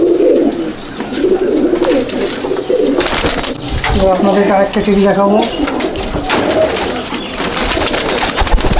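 Pigeons in a loft in Icchapur, North 24 Parganas, coo in low rolling phrases amid rustling and clatter, while someone talks over them for much of the stretch.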